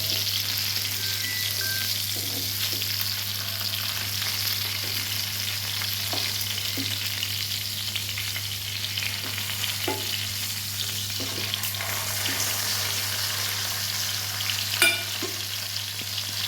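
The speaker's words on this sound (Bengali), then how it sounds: "ফ্রাই মোটামুটি হয়েই গেছে দেখুন" Ayla fish frying in oil in a pan, a steady dense sizzle holding evenly throughout with occasional small pops and scrapes, close and fairly loud, no voices.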